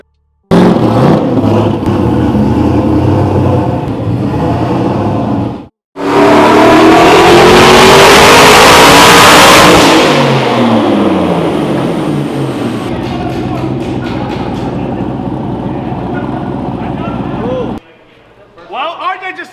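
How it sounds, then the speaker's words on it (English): A Cadillac CTS-V engine on a dyno revs very loudly and close. A short burst cuts off abruptly, then a long sustained pull climbs steadily in pitch before dropping away, with voices faintly audible near the end. "Well, RJ just set the dyno record."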